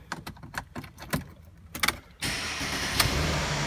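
A 2013 Mercedes-Benz GLK starting, with a few clicks and rustles, then the engine cranking and catching into a steady close idle.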